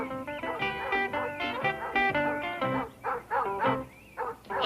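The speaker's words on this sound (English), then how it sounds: "That old hound dog will never see the day he can find this old fox." An old hound dog barking and whimpering: a close run of repeated, tuneful yips and bays that turns into shorter, broken whines with pauses between them, with no talking.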